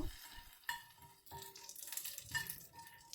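Byadagi red chillies, cumin and curry leaves fry in a little oil, a soft continuous sizzle with a spatula stirring and scraping the pan in irregular strokes, close and quiet.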